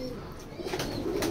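A pigeon coos nearby in a loft of racing pigeons, a soft low call heard once or twice over a faint, steady background hum. No voices.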